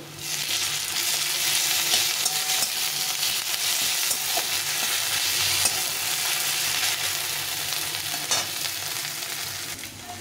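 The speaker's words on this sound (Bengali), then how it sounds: "পেঁয়াজটা ভাজা ভাজা হয়ে গেছে, এখন আদা রসুনের পেস্টটা দিয়ে দেবো। দিয়ে আবার একটু ভেজে নেব।" Onion with ginger-garlic paste frying in a pan, a steady, loud broadband sizzle running throughout with faint scraping stirs, no voices.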